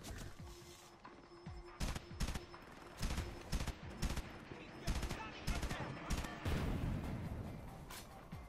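Bursts of rapid automatic gunfire from a weapon hitting armored targets in the shooter Frontlines: Fuel of War, loud repeated volleys with short pauses between, building toward the end.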